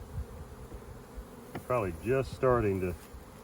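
Bees buzz close by, a low hum that swells and wavers as insects pass near, over a faint steady background.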